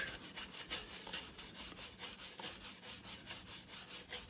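A brush scrubs the dirty side of an old Alcoa aluminum rim in rapid, even back-and-forth strokes, close and continuous with a dry rasping texture.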